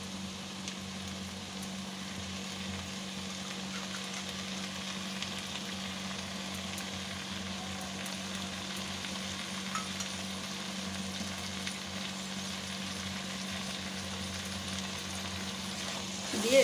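Mustard paste sizzling in a pan for a Bengali kochur loti dish with prawns, a low, even frying hiss that holds steady throughout, ending in a brief louder scrape.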